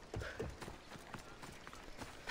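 Horse hooves clip-clop in Assassin's Creed Odyssey, a run of fairly quiet, uneven hoofbeats close by, ending in a louder thud.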